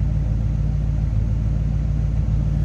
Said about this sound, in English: Nice little rumble coming out of the rear.